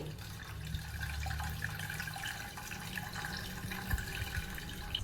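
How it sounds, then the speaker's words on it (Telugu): Water from soaked rice drains steadily through a strainer in a home kitchen, a continuous close trickling and splashing with no talk. "ఇగో రైస్ వడగట్టేసిన అండి వాటర్ని"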